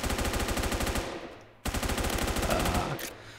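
Automatic gunfire in the Roblox shooter Phantom Forces, two long rapid bursts of close, loud, evenly spaced shots separated by a brief pause, with no talking over them.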